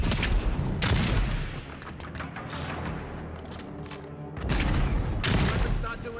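An arquebus fires in the fantasy video game Avowed, heard as loud, booming gunshots: a heavy opening burst, a quieter stretch, then more close blasts.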